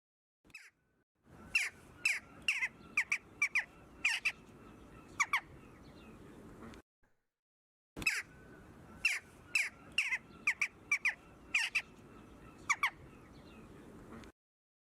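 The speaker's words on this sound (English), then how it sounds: "Let me play for you a jackdaw's call." Jackdaw calls played back from a recording: two bursts of sharp, repeated caws in quick succession, separated by a short silence, clear and fairly close.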